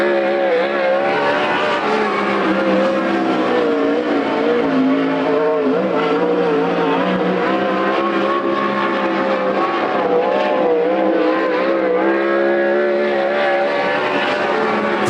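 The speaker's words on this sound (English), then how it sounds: "First lap for Steven Tyner" Sprint cars race at Coos Bay Speedway during a Western Sprint Tour event, their engines making a loud, continuous, high-pitched roar that rises and falls with the throttle and never lets up.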